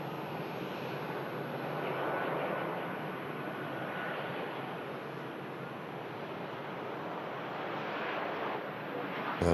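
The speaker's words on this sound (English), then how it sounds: "A nice smoky touchdown." An airliner lands at Manchester Airport with a smoky touchdown, heard as a steady, broad roar of jet engines and rushing air that swells and fades from a distance.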